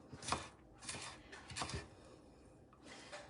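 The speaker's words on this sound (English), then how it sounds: "I'm just gonna cut this into strips and then cut across the other way" A knife chops vegetables into strips on a cutting board for a skillet dinner, a few soft, spaced cuts with a quiet pause between them.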